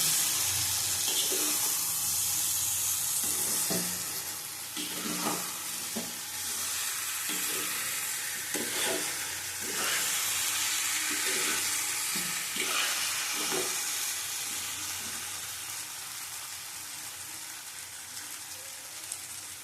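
Mung dal fritters frying in a pan give a constant hiss with repeated scraping stirs, moderately close, and no talk.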